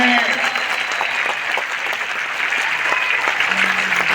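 Loud, dense audience applause fills a Hindi-language motivational talk for a DXN company gathering, a steady roar of many hands throughout with a voice talking over it.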